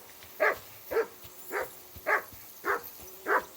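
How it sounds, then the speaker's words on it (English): A dog barks six times in an even rhythm, each bark short and mid-distance, inside the medieval world of the video game Kingdom Come Deliverance 2, with a faint background hum between them. "Jesus, Henry, that barking's driving me nuts."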